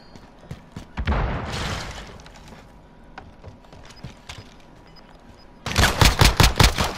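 Gunfire in the shooter Call of Duty Modern Warfare on a dark docks map: scattered single shots and impacts, then a loud rapid automatic burst near the end, with a voice briefly heard.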